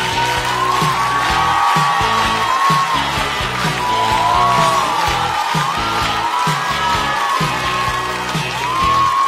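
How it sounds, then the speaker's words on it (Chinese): A comedy-show studio audience claps and cheers to welcome stand-up comedian Meng Chuan onto the stage, a dense, steady roar of applause with whoops and yells running loudly throughout. "掌声欢迎孟川"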